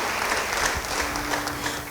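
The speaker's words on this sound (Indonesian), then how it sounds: "Beri tepuk tangan bagi dia, haleluya." Church congregation clapping in a short burst of applause that fills the whole moment at moderate loudness.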